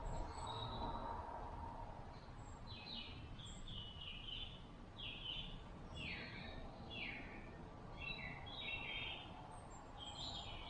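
Birds sing outside a château, a series of bright chirping phrases repeating every second or so over a broad rumbling background, moderately near and clear, with no talk.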